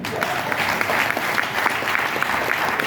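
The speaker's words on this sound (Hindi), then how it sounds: "एक बार जोरदार ताली बजाइए" An audience at a business leader's motivational seminar gives loud, dense applause that holds steady throughout, a continuous wash of many hands clapping close by.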